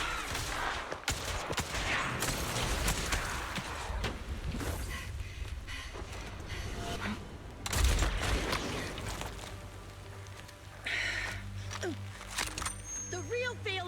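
Sniper rifle fire in the Zenless Zone Zero video game, with sharp shots and bursts cracking through a busy battle mix, one heavy thump near the middle, and other game sounds and voices around them.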